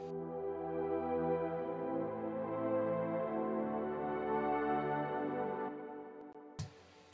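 A sustained synth pad from the Nexus plugin holds rich layered chords for several seconds, steady and smooth, before fading, followed by a brief burst of noise at the end.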